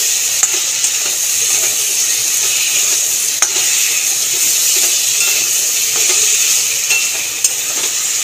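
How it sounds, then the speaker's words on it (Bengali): Potatoes that were already fried are stirred into spice paste for a fish roe curry, and the pan gives off a loud, close, continuous sizzle with occasional clicks from the utensil against the pan. "আলুগুলোকে দিয়ে দেবো। দিয়ে একটুখানি আলু দিয়ে কষিয়ে নেব মশলাটা।"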